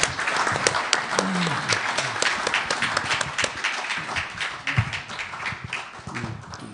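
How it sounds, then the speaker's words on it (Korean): Audience applause fills a room after a political speech at a press forum, steady broadband clapping from many hands lasting throughout, fairly close, with scattered faint voices beneath. "여기 계신 분들이 우렁찬 박수를 치는 거에 값질 만큼 명연설이었다고 생각합니다"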